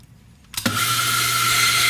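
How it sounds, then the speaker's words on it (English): An espresso coffee grinder switches on after a brief quiet start and runs steadily, a loud, even motor whine with a constant high hum as cleaning product is ground through its burrs. "You take about a capful, you put it in your grinder,"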